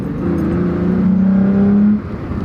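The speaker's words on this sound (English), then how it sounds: "Decent sounding V6 too, doesn't sound wimpy." A V6 pickup truck with a manual transmission revs up under acceleration, its engine note rising through a gear for about two seconds before dropping off, loud and close inside the cab.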